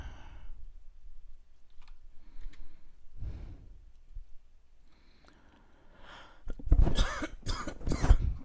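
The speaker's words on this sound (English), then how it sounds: "Hopefully that'll help the coughing." A person getting over an illness coughs and clears their throat, with scattered rough coughs early on and a louder, harsher burst of coughing near the end, close to the microphone.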